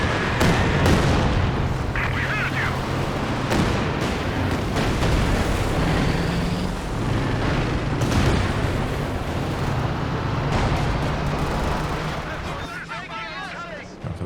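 A base artillery barrage pounds the battlefield in Company of Heroes 2, with a continuous loud rumble of overlapping booms and blasts filling the whole stretch while a commentator talks over it.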